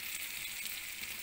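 Onions fry in oil in a pan, giving a steady, bright, hissing sizzle throughout a short moment, close and even with no talking.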